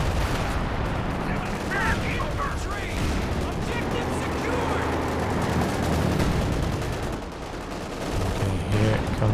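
Dense gunfire and booming artillery from a Company of Heroes 2 2v2 battle, with a Priest self-propelled gun and advancing Panzer Grenadiers, form a continuous loud barrage of overlapping shots and blasts, with a voice talking over parts of it.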